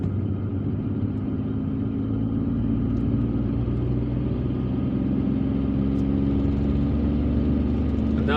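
A car drives through the streets of Algiers, passing beneath the esplanade of the Martyrs Memorial, with a steady low engine rumble and road noise from inside the cabin, continuous and fairly loud.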